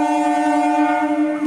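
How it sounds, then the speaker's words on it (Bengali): A Kolkata circular railway train near Princep Ghat sounds a loud, sustained tonal horn, steady and close throughout with no break. "বলতে বলতে ট্রেন এসে গেছে, ট্রেনটা জাস্ট ছাড়লো, চক্র ট্রেন।"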